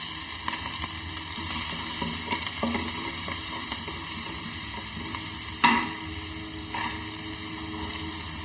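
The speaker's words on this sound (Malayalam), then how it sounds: "കടുക് പൊട്ടിക്കഴിയുമ്പോൾ നമുക്ക് പച്ചക്കറികളെല്ലാം ഇട്ട് ഫ്രൈ ചെയ്തെടുക്കാം" Vegetables frying with mustard seeds in a pan for semiya upma give a steady close sizzle, with stirring scrapes and an occasional sharp pop, and no voices.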